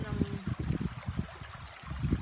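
Clear spring water from underground trickles and gurgles steadily at close range in rural Guinobatan, Albay, a soft continuous babble under a person talking.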